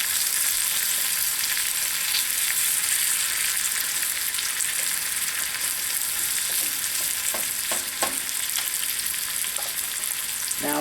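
Red and green peppers frying with onions in a pan give a steady, close sizzle throughout, with a few light clicks of stirring near the end and no voices.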